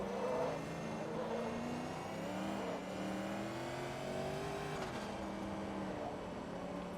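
A Corvette race car in Forza Motorsport 2 accelerates hard up through the gears, its engine note climbing and dropping with each shift, and a steady loud roar fills the whole stretch.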